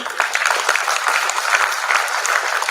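An audience at a university convocation ceremony applauds, a dense, steady burst of many hands clapping close by for a few seconds.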